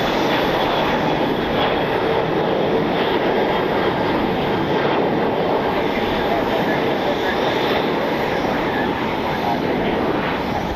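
An Alaska Airlines Boeing 737 in a special Disney Toon Town livery departs Cleveland, a steady loud roar of jet engines holding throughout under light outdoor background.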